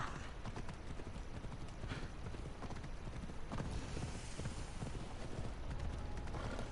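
Steady clip-clop of horse hooves in Assassin's Creed Odyssey, a continuous rhythmic trotting patter heard close and fairly even throughout, with some soft creaks under it.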